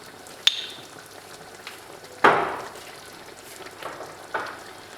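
Ghee and oil in a pan for chicken kabsa give a low, steady background sizzle, broken by a few sharp spattering bursts and clinks, close up and without talking.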